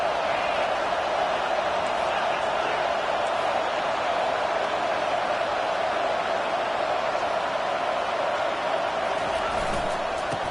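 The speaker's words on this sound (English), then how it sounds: "It is getting loud as this crowd tries to help its defense." Loud football stadium crowd roaring steadily as fans try to rattle the opposing offense, a dense continuous wash of cheering and noise that holds at full volume throughout with no break.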